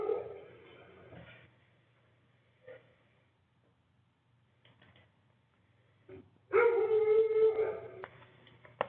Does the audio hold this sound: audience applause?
no